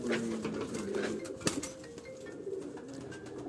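Flying pigeons kept by a Lahore fancier coo in low, rolling calls close by, several birds overlapping in a steady murmur with a sharp knock partway through.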